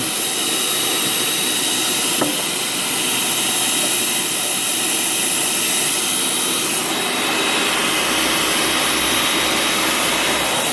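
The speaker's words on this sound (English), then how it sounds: "this is that Harbor Freight saw, and it's still working pretty good" A Harbor Freight power saw cuts through floor tile, a steady, loud, close grinding whine that runs unbroken for about eleven seconds with a brief ticking catch early on.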